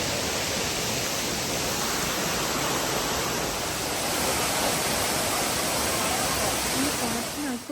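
Constant roar of the Sirimane waterfall near Sringeri, a broad, loud rushing wash that fills the whole clip without a break.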